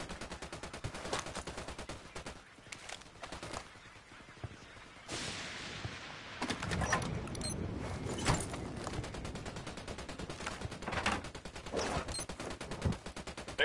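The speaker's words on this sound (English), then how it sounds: "Unidad's firing on the cartel." In a PS4 video game, Unidad troops fire on cartel fighters in repeated bursts of automatic gunfire with scattered single shots, some louder bursts up close and others further off, with no talking.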